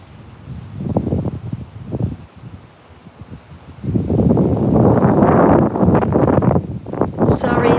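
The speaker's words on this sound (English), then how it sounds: "Sorry, that's the wind, that's not me." Wind buffets a microphone outdoors on an open patio. It comes in gusts with a loud, sustained rumbling stretch in the second half, and a person talks in pauses between the gusts.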